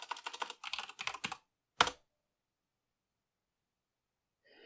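Bursts of quick keystrokes on a computer keyboard, followed by a single sharper key press like an enter key, then silence before faint clicking resumes.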